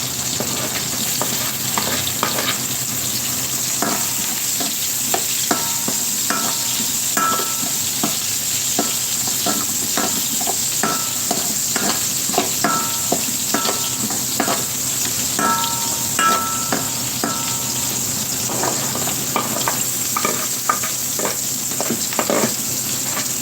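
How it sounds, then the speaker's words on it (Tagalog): Onion, garlic, ginger and bell pepper sautéing in leftover frying oil: a continuous bright sizzle runs throughout, broken by frequent quick stirring scrapes and clicks close by. "sibuyas, bawang, luya, saka bell pepper. Dito rin tayo guys gigisa sa pinagprituhan natin"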